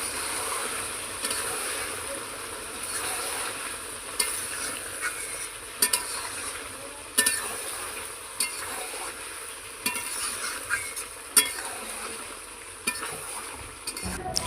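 Chicken sautéing in a pan over a wood fire, a steady close sizzle broken by regular scraping knocks of the stirring spoon, with no talk.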